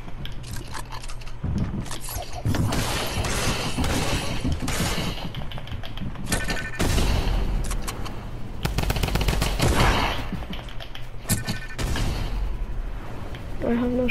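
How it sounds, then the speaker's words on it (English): Repeated shotgun blasts in a video game, loud sharp bursts firing in quick clusters over a busy mix of game noise and music. "I think it's like a shotgun."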